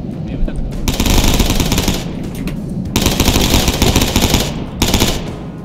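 Bursts of rapid automatic gunfire in Minecraft, loud and sustained, separated by short pauses, with distant popping between the volleys.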